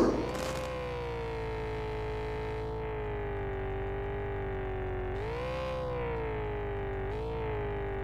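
An ambulance siren in a video game sounds as a steady, loud electronic wail with a slowly wavering pitch and bends, set over constant engine rumble and heard throughout.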